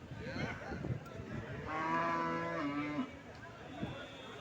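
At the Anantapur cattle market a cow gives one long, drawn-out moo, moderately near, over a murmur of background chatter and market noise.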